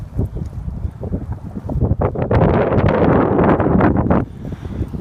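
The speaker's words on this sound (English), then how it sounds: "I don't know if it will hear me over the fucking wind" Strong, violent wind blows hard across the microphone outdoors, rising from a rumbling buffet into a loud, roaring gust near the end with no voices.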